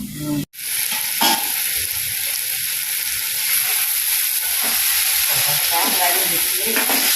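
Okra sautés in a pan with a continuous bright sizzle and scattered stirring scrapes. There is a short break near the start, and then the frying runs steadily and close up.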